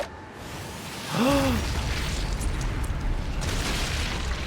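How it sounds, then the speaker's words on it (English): A grenade goes off in the video game Sniper Elite: Resistance, a single muffled boom over low background rumble, with a brief tonal sweep around the blast. "grenade injuries, explosions like that"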